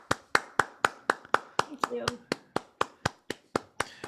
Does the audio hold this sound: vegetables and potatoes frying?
no